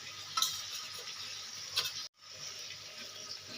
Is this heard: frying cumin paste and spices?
yes